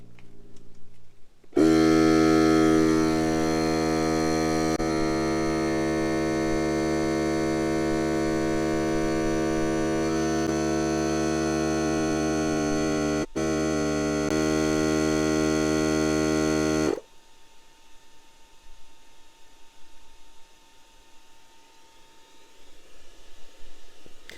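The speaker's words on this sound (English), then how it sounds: "I'm going to start inflating it back up to 35 PSI" A Fanttik X9 Ultra tire inflator runs while inflating a truck tire, a loud, steady motorized buzz-hum holding for about fifteen seconds with a brief interruption, then stopping to leave low background noise.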